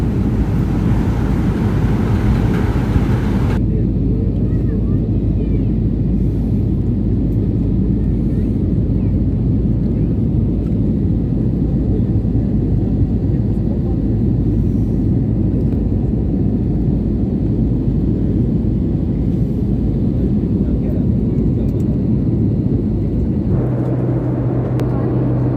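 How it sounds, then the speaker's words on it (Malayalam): A passenger airplane lands at Bombay airport with a loud, steady cabin roar of engines and airflow filling the whole stretch. The tone shifts slightly near the end. "ഫ്ലൈറ്റ് ബോംബെ എയർപോർട്ടിൽ എത്തിയിരിക്കുകയാണ്"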